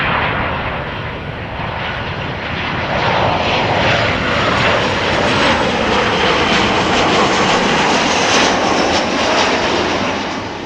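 An airliner arrives on the Kaagbaan runway at Amsterdam Schiphol, its engines a loud, steady, broadband roar that swells slightly and holds for the whole stretch.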